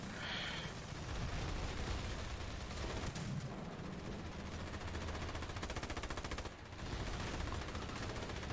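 Machine gun fire in the Ravenfield WW2 campaign, long rapid bursts of automatic shots in a dense battle din, with a short pause and then renewed firing.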